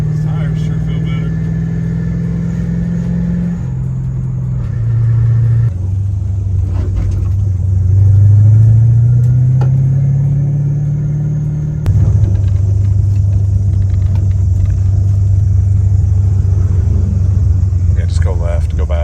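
A 5.0 car engine rumbles loudly, its note rising and falling through gear changes as it accelerates hard, with a sharp shift near the middle and a steady drone after, under occasional talk.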